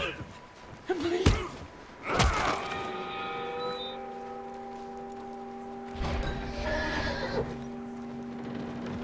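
A horse whinnies and snorts close by in a western video game, with a few sharp knocks and a sustained tonal hum in the background.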